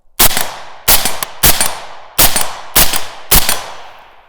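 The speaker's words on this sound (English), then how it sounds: "Anyway, we'll shoot some steel." A Galil rifle fires six sharp, loud shots at steel targets, each crack spaced about half a second apart in an irregular rhythm with a brief decay after each report; no talking.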